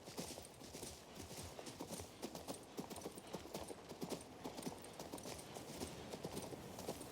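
A horse in King's Bounty II trots along at a slow pace, its hooves clip-clopping in a steady, even rhythm, quiet and continuous throughout.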